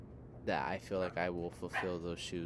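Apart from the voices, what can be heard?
dog barking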